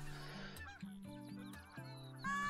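Canada geese honking repeatedly in Call of the Wild, a quick overlapping series of calls from several birds, fairly clear and close with faint ambience.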